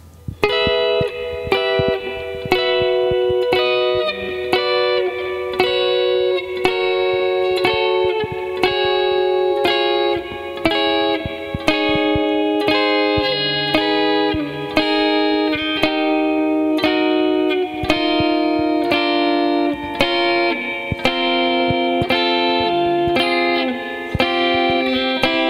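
Fast guitar arpeggio running through a sus 4 chord and resolving, played as a steady unbroken stream of picked notes at a quick tempo, loud and close with effects-laden tone and no talking.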